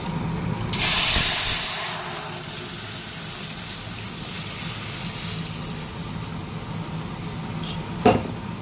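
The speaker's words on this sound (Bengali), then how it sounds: "ডাল এবার টকবক করে ফুটছে" Dal seasoned with cumin, bay leaf, salt and chili boiling in a pot: a loud hissing burst gives way to a steady simmering hiss, with a short clatter near the end.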